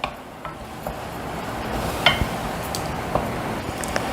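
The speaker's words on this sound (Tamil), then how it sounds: "அடுத்தது இதில் அரைச்சி வச்ச தக்காளியை சேர்த்துக்கோங்க. இதையும் நல்லா வதக்கணும்." Ground tomato sautéing with ginger garlic paste in a pan for spicy palak khichdi, a soft steady sizzle with scattered scrapes and clinks of a stirring spoon against the pot.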